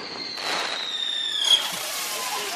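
A flying pig firework whistles with a sustained high-pitched squeal while flying over a house, then gives a brief crackling pop, heard close and fairly loud.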